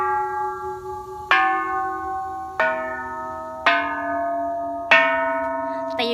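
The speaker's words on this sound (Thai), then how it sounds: "แอบตีระฆังให้ฟัง" A temple bell at a Thai temple is struck five times in a slow melodic pattern, each loud, ringing strike decaying under the next, with no talking.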